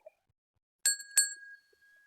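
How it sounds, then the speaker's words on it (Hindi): A small hand bell chimes twice in close succession with a bright, clear ping, and its pure tone lingers and fades in a quiet room. "एक इस घंटी को केवल एक बार"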